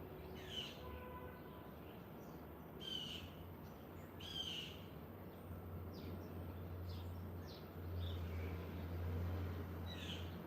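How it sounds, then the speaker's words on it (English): Several faint, distant crow calls repeat in short bursts through an outdoor setting, with a low steady hum of traffic or wind underneath. "it sounds like a crow"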